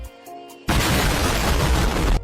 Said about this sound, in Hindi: लेकिन हेलमेट में ही पटाखा था।